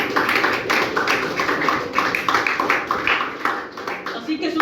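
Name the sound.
congregation applauding in church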